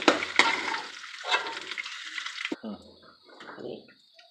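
Chicken frying in a pan is lifted out, giving a steady close sizzle, then a clatter and a sharp scrape before the hiss settles into quieter bubbling.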